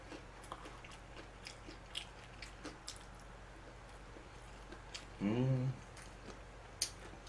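Someone eats cheese pork cutlet and cheese oven steak, with soft, close chewing and squishy bites under a low background hum. A louder crunchy or clattering burst comes near the end, and there is no clear speech.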